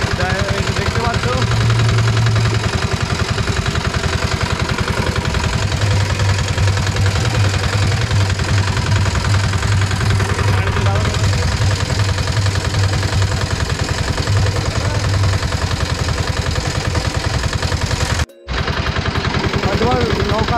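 A small river boat's engine runs loud and close, a steady droning rumble with a rapid throbbing beat that continues almost without a break.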